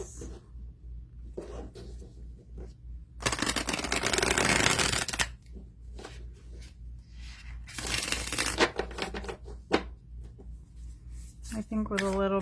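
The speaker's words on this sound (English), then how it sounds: "They shuffle very nice." Two bursts of tarot cards being shuffled, a longer riffle then a shorter one, with quiet handling sounds between and a voice starting at the end.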